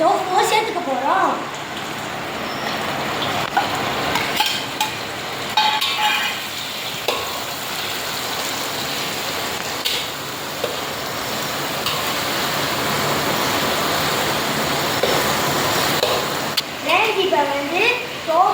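Tofu frying in a pan with browned onion, chili and tomato, a continuous crackling sizzle with occasional stirring scrapes, while a person talks over it at the start and end.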